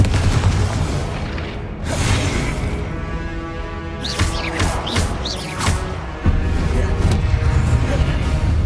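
A Confringo explosive spell blast in Hogwarts Legacy, with booming impacts and crackling bursts over a loud, continuous rumble of spell combat.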